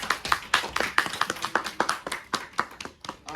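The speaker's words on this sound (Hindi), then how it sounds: "ताली बजाओ भाई।" Clapping from a college debate competition audience, a fast, uneven burst of many hands that stays fairly light and close, with faint voices mixed in.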